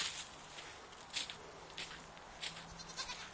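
Goats bleat outdoors on a cold day, a few short calls scattered among faint footsteps and quiet background, moderately distant.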